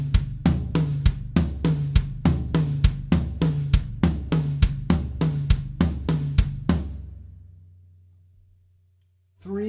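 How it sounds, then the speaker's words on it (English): A 16th note triplet fill played on low tom, high tom and bass drum, an even, rapid run of about twenty close drum hits in groups of three, ending in a ringing decay and then silence. "Today we're going to look at a 16th note triplet pattern that I'm sure you're familiar with"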